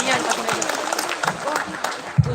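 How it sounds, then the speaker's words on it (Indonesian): Applause from a school audience of high school students at a talk show event in Palembang, a steady crowd of clapping at moderate distance with a voice speaking over it. "Tepuk tangan untuk kita semua ya."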